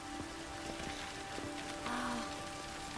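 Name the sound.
rain falling in The Witcher 3 video game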